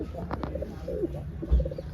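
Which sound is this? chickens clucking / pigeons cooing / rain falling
pigeons cooing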